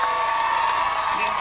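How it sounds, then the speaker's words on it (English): A crowd at a women's football friendly between Canada and Italy applauds a player leaving the pitch as a substitute, a steady wash of clapping and cheering in a stadium. "you hear the round of applause for Amy Walsh, who comes off"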